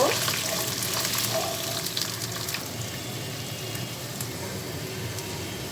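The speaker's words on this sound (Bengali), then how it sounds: "আমি এখানে অ্যাড করে দিলাম, দিয়ে মশলাটাকে খুব ভালো করে কষিয়ে নেব।" A ground spice paste with cumin fries in a pan for a fish curry, giving a steady, moderately loud sizzle with faint scraping and small crackles. The sizzle is loudest at the start and settles slightly after.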